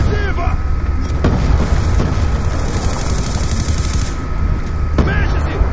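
Rapid bursts of automatic gunfire in Black Ops 2 multiplayer, loud sharp rattles with a few distinct cracks over a constant engine-like rumble, while a player speaks.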